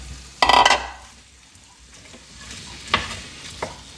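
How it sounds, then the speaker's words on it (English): Vegetables and sausage links sauté in a pan, with a loud burst of stirring and scraping near the start and a few softer utensil clicks over a low sizzle. "I'll start sauteing those vegetable scallops and those sausage links"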